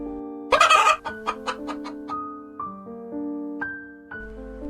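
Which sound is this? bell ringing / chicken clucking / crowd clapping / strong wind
chicken clucking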